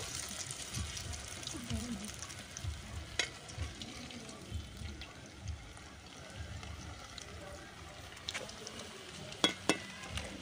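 Battered potato snacks fry in hot oil in a wok (korai) with a faint, continuous sizzle, broken by occasional sharp clinks of a utensil against the pan.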